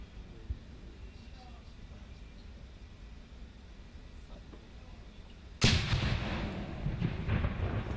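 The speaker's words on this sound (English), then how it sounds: "So now they're practicing grenade throwing." Loud grenade blasts during grenade-throwing practice at a Chinese military college, a sharp broadband burst near the end followed by sustained rumbling noise, after a stretch of quieter ambient sound.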